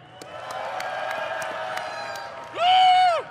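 A large BlizzCon convention crowd cheers and whoops, a broad roar that builds under a voice on a PA system and then swells briefly.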